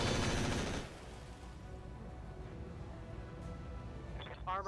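A mech fires a volley in the BattleTech-based game RogueTech, with a dense, loud rattle of machine-gun and weapon fire for about a second, then a low rumbling tail and faint mechanical tones.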